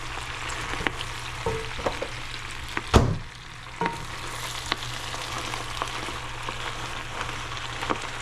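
Spinach and garlic sizzle steadily in a hot pan, a continuous close frying hiss broken by a few clattering stirs and one sharp knock of a utensil, with no voices.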